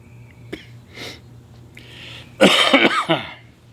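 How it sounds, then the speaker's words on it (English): A man coughs from sawdust around a logging site: a few soft throat sounds first, then a loud burst of several harsh coughs close to the microphone. "Sawdust ain't good for you around here. Makes you cough."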